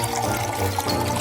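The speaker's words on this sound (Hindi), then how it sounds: "चलो इसे इस ग्लास में डालती हूँ" Liquid is poured into a glass, giving a brief, soft, steady trickling splash at close range.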